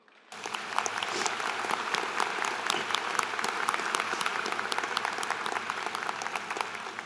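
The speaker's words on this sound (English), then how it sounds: "giving one more round of applause to our keynote speaker" Sustained applause from a commencement audience for the keynote speaker, starting abruptly after a brief quiet moment and holding steady at full strength as a dense wash of many hands clapping throughout.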